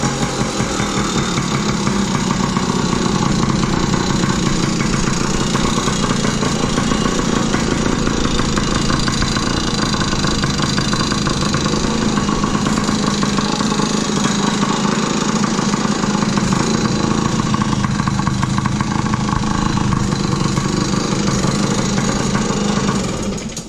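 A 2000 Yamaha PW50 small two-stroke dirt bike engine idles steadily and close by after an idle adjustment, a continuous buzzing putter with no voices.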